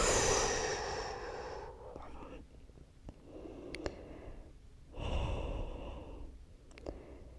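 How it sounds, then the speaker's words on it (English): A slow, deep yoga breath, with a long audible inhale, a pause, then a second soft breathy exhale, close and quiet. "Take one more slow and steady breath in. And exhale, let it go."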